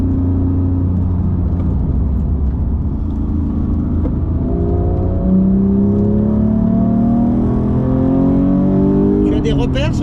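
Inside a Porsche GT3 Touring with a manual gearbox, the engine drones steadily on a gentle warm-up lap of a circuit, its pitch climbing smoothly through the gears.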